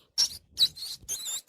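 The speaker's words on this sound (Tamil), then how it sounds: "எலி" A mouse gives four quick, high squeaks in close succession, faint but clear, with no voices.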